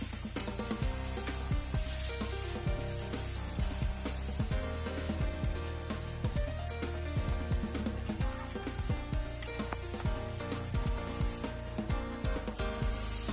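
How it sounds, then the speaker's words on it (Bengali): Fried masala for a fish (shol) korma sizzles steadily in a pan as water is poured in, with stirring scrapes and clicks over a continuous close hiss throughout; no voices. "এবার আমি একটু ভালো করে নাড়িয়ে নিয়ে দিয়ে দেবো পরিমাণ মতো জল।"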